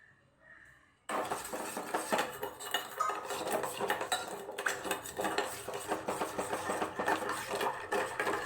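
A spoon stirs caramel in a metal pan over a low flame, giving close, continuous scraping and clinking in a steady rhythm that starts abruptly after a near-silent second, with no voices.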